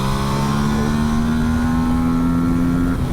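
A 2024 Aprilia RS 457 engine drones loud and close at steady high revs on a track, its pitch climbing slowly before a brief dip near the end as it shifts up.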